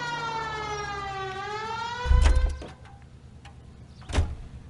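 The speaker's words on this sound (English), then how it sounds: "Phelps. Hit the siren." A police car siren in the game L.A. Noire wails with a rising and falling tone, then cuts out, followed by a couple of sharp thumps.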